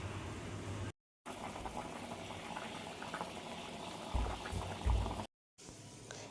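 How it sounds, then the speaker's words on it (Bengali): Fish roe curry bubbling in a pot as it simmers, with a steady, close boiling wash and a louder burst of bubbling toward the end, broken by two short gaps of silence. "আমরা মাছের ডিমগুলোকে ঝোলের মধ্যে দিয়ে দিয়েছি। আমরা আরও কিছুক্ষণ ফুটিয়ে নেব।"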